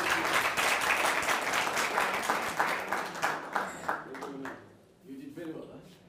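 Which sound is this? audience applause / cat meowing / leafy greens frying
audience applause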